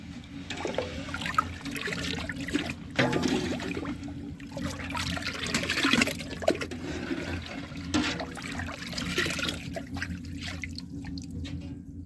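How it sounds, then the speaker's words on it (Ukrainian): Brine of water with dissolving sugar and salt being stirred for marinated tomatoes, a continuous sloshing, trickling swirl of liquid with faint clinks, close and fairly loud without any voices. "додали, розсіл тепер добре перемішуємо щоб все розстало, розтворилося"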